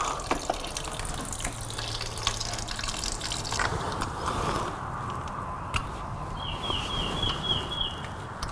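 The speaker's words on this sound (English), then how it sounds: "I'll wait till it stops draining." Fluid draining from a motorcycle during repair work, a continuous close trickle and splash of liquid running into a container, steady and fairly loud with small drips.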